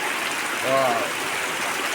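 A steady, even hiss of heavy rain falling fills the whole clip, with a voice speaking briefly near the middle.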